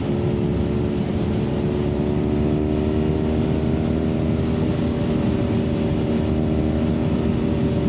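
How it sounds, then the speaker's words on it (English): A 2023 BMW R nineT Urban GS with a 1200cc boxer engine drones steadily while riding, a loud, continuous low throbbing mixed with wind rush throughout. "You have a 1200cc Boxer that sounds like an old World War I or World War II airplane"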